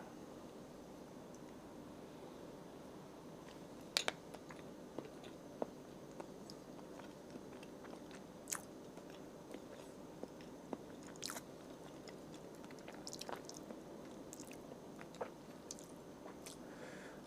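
Someone chews durian cheesecake chilled for export shipping, with soft, close mouth sounds and occasional brief crunchy bites scattered across a quiet background.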